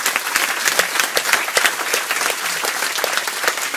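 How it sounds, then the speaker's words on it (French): Audience applause after a talk, many hands clapping in a dense, steady burst that stays loud and close throughout, with no one speaking over it. "On l'applaudit."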